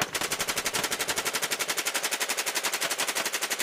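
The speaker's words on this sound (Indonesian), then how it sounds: "Rupanya di sini ada tembakan AK-47." Rapid automatic fire from a toy AK-47 gun rattles in an unbroken burst, evenly spaced shots at a fast steady rhythm, bright and loud throughout.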